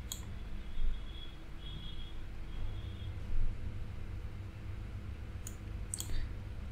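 A computer mouse clicking while scrolling down through search results on a stock image website, with a few sharp, close clicks spaced out over a steady background hum.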